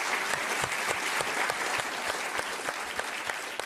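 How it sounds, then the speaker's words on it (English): Dense, steady applause from a conference audience at a World Economic Forum security panel in Davos, sustained evenly throughout without voices. "give them an applause"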